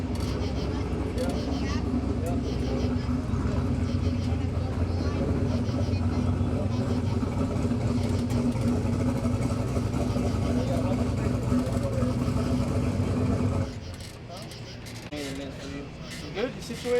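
A Corvette engine hums and rumbles steadily from inside the car, fairly loud and continuous, with people talking over it before the sound drops away near the end.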